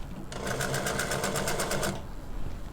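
A sewing machine stitches a concealed zip into a baby frock, one steady, rapid burst of needle strokes lasting about a second and a half, with quiet room noise before and after.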